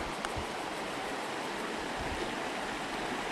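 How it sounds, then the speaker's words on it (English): Deep Creek, a stream in Gippsland, Victoria, Australia, flows in a steady, even rush of water that holds constant, close and moderately loud, with no talk. "Here we are, Deep Creek."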